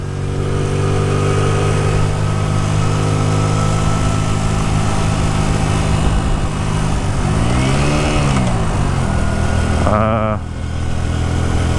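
Hyosung Aquila 125cc motorcycle engine revving and accelerating on a test ride, a steady loud drone that rises in pitch through gear changes around the middle and end, with wind rush and a rider talking over it.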